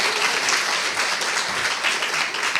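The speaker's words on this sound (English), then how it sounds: "If we can give a round of applause again." A symposium audience applauds steadily, a dense wash of clapping that holds at the same loud level throughout.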